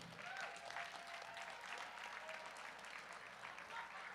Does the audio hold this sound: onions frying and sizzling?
no